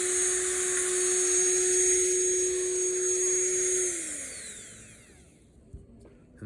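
A powered wire wheel whines steadily while cleaning metal parts during a Catalina 27 sailboat refit, a loud high-pitched drone that holds for about four seconds, then spins down and fades out, followed by a faint knock.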